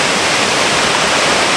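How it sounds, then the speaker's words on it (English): Rushing water at Levencorroch Burn waterfall in Kildonan on the Isle of Arran, a loud, steady, broadband roar with no breaks, heard close up and alone. "You can hear the water getting noisier though."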